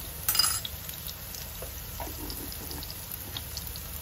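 Garlic and onion sauté in a pan for a home-cooked pakbet, giving a soft, steady sizzle with a few faint utensil clinks and a brief louder rattle near the start.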